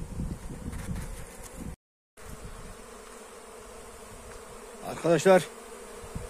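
A steady honeybee buzz hums through the whole stretch at a beehive, broken by a brief gap, with a voice speaking briefly near the end.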